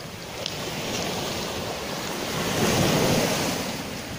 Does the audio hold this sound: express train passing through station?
no